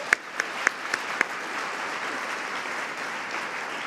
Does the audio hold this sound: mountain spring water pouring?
no